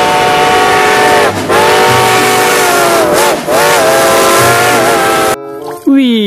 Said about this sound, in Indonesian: Ini lokomotif kereta api.